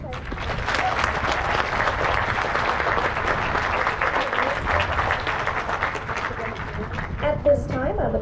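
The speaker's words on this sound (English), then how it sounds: "Please join me in one more round of applause for all of our academic achievements" Graduation audience applauding academic achievements at a 2022 college ceremony, steady dense clapping filling the hall for about eight seconds, with a few cheers and voices mixed in near the end.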